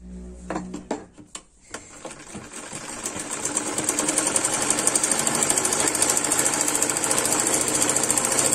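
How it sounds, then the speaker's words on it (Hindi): A sewing machine stitches two layers of cloth, starting with a few separate clunks, then building into a fast, steady mechanical rattle that grows louder and runs continuously, close up. "चलिए अब इसको सिलते हैं।"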